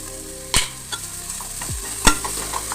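Drumstick curry with salt gets stirred in a hot pan, a few scraping stirs cutting through a soft, steady sizzle, close up and with no voices.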